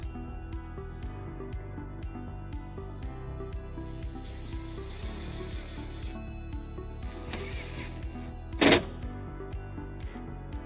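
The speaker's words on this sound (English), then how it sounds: "we're going to ground it using this provided self-tapping screw and a 1/4-inch socket" A self-tapping screw driven in with a 1/4-inch socket ratchet while grounding a trailer wiring harness on a 2020 Toyota RAV4: steady rapid clicking throughout under a faint hum, with one sharp scrape near the end.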